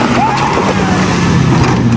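A Cadillac Escalade climbs an off-road hill, its engine loud and close as it revs up in a short, continuous surge of acceleration.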